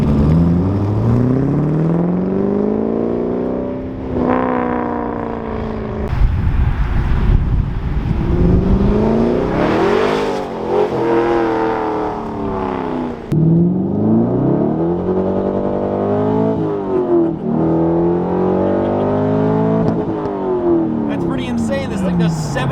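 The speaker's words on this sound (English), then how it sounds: "This thing does 70 miles an hour in second gear." A C5 Corvette Z06 with a Billy Boat Bullet exhaust accelerates hard, its engine note climbing through the revs, dropping at each gear change and climbing again, loud and close inside the car while people talk over it.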